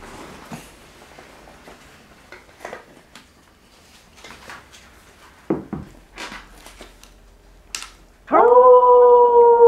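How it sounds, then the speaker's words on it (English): Soft yips and scattered noises lead into a single loud, sustained wolf howl from an Arizona timberwolf, near and clear, with a rising, wavering tone at the end. "Hear that? The legendary wolf's howl."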